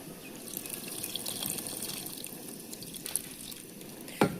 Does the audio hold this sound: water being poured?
yes